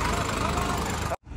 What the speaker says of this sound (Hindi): गाइज देख सकते हो ये जा रहे हैं ट्रैक्टर भरे हुए